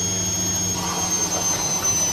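A Bosch washing machine on its final rinse gives off a steady, loud mechanical whine with a high tonal hum and a constant low drone, running without a break and with no voices.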